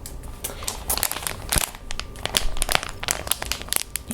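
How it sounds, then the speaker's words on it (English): A crinkly object being crumpled close up, dense crackling crinkles with sharp irregular bursts throughout, no voices. "Next, I have a crinkly sound for you."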